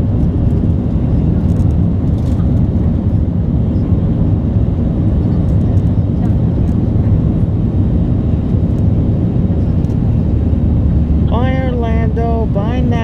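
An airliner banking just after takeoff fills the cabin with a loud, steady engine roar and airflow, with a person speaking over it near the end.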